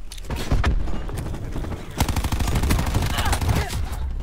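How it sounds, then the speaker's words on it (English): Burst of explosions from a cluster grenade thrown in a team deathmatch shooter game: a loud rolling blast near the start, then a sharper crack at two seconds followed by a rapid chain of small detonations, dense and loud throughout. "Cluster grenade going out."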